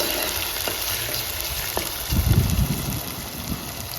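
Ginger fries in a pan of oil for a crab curry, giving a steady close sizzle with a brief louder rumble of stirring partway through.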